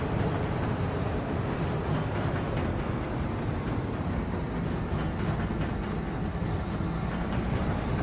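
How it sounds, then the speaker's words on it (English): A farm trailer in Farming Simulator 25 rattles continuously with a dense, rhythmic clatter like a train on tracks, loud and steady under engine rumble throughout. "The trailer makes a lot of noise. It sounds like train on tracks."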